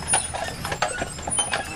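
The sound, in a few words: horses' hooves clip-clopping pulling a carriage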